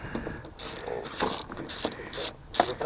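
A ratchet clicks in quick bursts while backing out T30 hex screws from a Dodge Challenger window panel, loud and close, with short pauses between runs and no talking.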